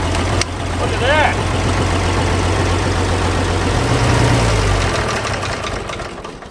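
An old abandoned farm tractor's engine running steadily, a loud, rough low rumble with a knocking idle that holds throughout, close by, with a brief higher squeal early on.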